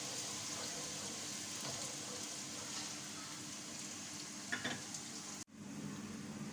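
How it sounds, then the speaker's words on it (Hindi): Chopped onions fry steadily in hot oil in a pan for a dhaba-style mash daal, giving a continuous close sizzle with a brief clatter near the end and a sudden short dropout. "इस प्याज को तकरीबन हम 2 से 3 मिनट गोल्डन ग्रो करेंगे"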